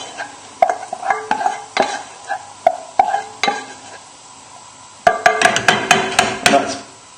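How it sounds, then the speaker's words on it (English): A spoon scrapes and knocks around a pan of cooked strawberries with the heat just turned off, in a rhythmic series of stirring strokes that quicken and grow louder toward the end. "Just give them another little stir."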